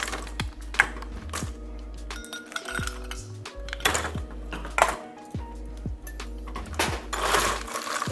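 Ice clinks and rattles into a cocktail glass and a mixing glass as both are chilled for a stirred rye whiskey, Cynar and sweet vermouth drink, with a steady run of close, hard knocks and tinkles throughout.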